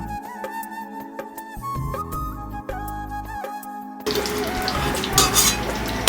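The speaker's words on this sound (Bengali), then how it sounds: "চেষ্টা করবেন যাতে সমস্ত ড্রাই ফ্রুটসগুলোই ঘিয়ে ভাজা যায়" Mixed dry fruits frying in homemade ghee for gond dry fruit ladoos, with a soft sizzle and light stirring that swells into a loud, dense crackling sizzle in the final seconds. No one speaks.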